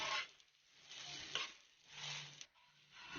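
Onion dosa batter with onion and green chilli sizzles on a hot tawa in a home kitchen, a steady close frying hiss that swells and fades in waves, with faint scraping and no talk.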